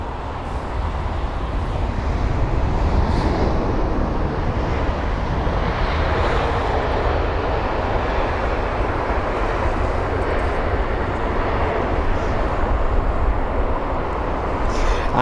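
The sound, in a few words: airliner arriving at London Heathrow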